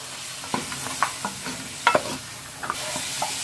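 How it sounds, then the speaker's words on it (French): Meat cooks with ground ginger, garlic and vegetable stock in a pan, with soft sizzling beneath a series of distinct stirring scrapes and clinks spread across the moment. "Nous allons laisser notre viande cuire et faire sortir son eau."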